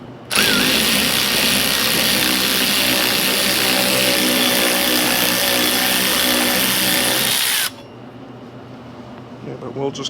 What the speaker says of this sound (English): We'll just clean these up on the wire wheel